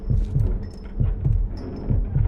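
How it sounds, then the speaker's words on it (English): Heartbeat from the Sherlock Holmes: The Devil's Daughter video game, during a fever dream sequence: loud, deep thumps in lub-dub pairs that repeat steadily three times, with faint high tones above them. "Okay, this heartbeat's continually gonna be here."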